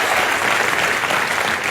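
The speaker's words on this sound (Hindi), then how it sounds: "इस बात के लिए पहले तालियां होनी" A studio audience claps together in a short, dense burst of applause at a comedy show, loud and even throughout, with no talking over it.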